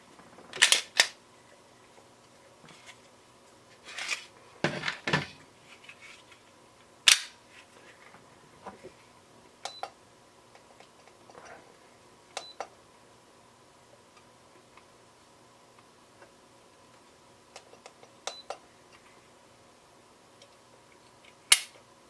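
A Glock G17 trigger being pulled repeatedly against a trigger pull scale, giving sparse, sharp mechanical clicks and snaps spaced irregularly over a quiet background, with a small cluster of louder clicks early on.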